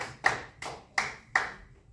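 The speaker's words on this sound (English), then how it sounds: "Let's give my man a round of applause." A few hand claps ring out in a classroom for a student, four sharp, evenly spaced claps close by with quiet gaps between, rather than a full ovation.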